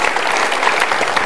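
Studio audience on an Indonesian Metro TV talk show breaks into dense, steady applause, loud and close, filling the whole moment without any voices over it.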